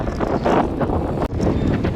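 Strong wind buffets the microphone at an open-air bus stand in Vellakovil, Tamil Nadu, a loud, continuous roar with gusty surges and no voices.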